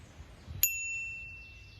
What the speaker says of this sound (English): And of course a bell.